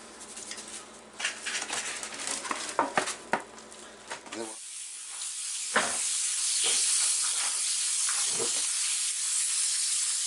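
Adobo-seasoned beef for ropa vieja searing in about two tablespoons of hot oil in a pan: a steady close sizzle and hiss fills the second half after a stretch of clattering kitchen handling, with a few brief knocks on top.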